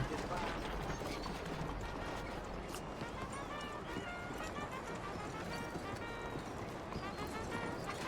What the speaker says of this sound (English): We got horses all over the place.